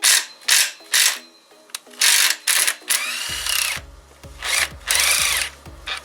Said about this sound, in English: we'll remove the bolt next, and we will leave the last nut